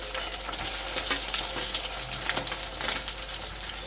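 Chopped tomato added to onion and ginger-garlic paste frying in a pan for ghugni, a continuous crackling sizzle with occasional scraping stirs, moderately loud and steady throughout.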